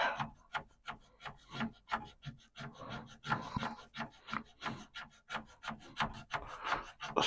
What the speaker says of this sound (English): I'm going to take this pencil that has an eraser on it, and I'm going to apply it to the cassette port